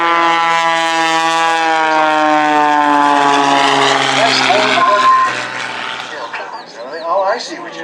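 An aerobatic propeller airplane flying knife edge at an air show, its engine drone loud and steady with a slowly falling pitch as it passes, while a commentator talks over it.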